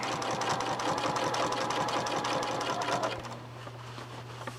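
A sewing machine runs steadily, stitching binding onto a quilt with a fast, even whir for about three seconds, then slows and stops, leaving a low hum.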